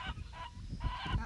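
Hens in a grandmother's backyard in the United Kingdom, kept for their very dark brown eggs, giving short honking, clucking calls that come in a couple of bursts close by, with no talking over them.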